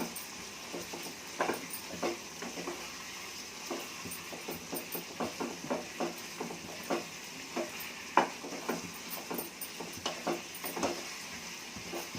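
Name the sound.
stirring tomato curry in a cooking pot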